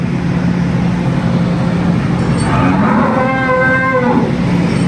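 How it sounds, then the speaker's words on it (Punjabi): Buffaloes and cows at feeding time on a farm low out loud and close, one drawn-out moo rising over a steady rumble of farmyard and engine noise. "ਖੋਲੋ ਮੱਝਾਂ ਗਾਵਾਂ ਬਾਹਰ ਪੱਠੇ ਪਾਈਏ"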